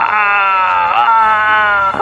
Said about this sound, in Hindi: बगीचे से चिल्लाने की आवाज़ आने लगी